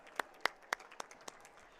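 Applause from the home crowd at a girls' Class B playoff basketball game, with five separate sharp claps or bursts spaced evenly across the clip, moderately loud and set against quiet gym noise.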